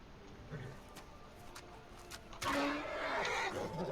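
A horse in the video game Skyrim lets out a loud neigh about halfway through, following quieter background game sounds.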